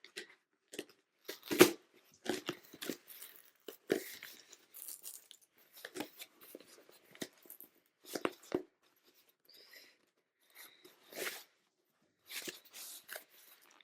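Crinkly tearing and rustling of packaging in short bursts, close by, with scattered scratches and pauses between.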